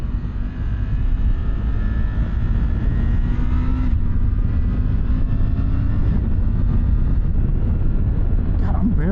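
A 2024 Triumph Tiger 900 GT Pro motorcycle engine pulls under light throttle with a steady droning hum that shifts pitch partway through, mixed with heavy wind rush from riding.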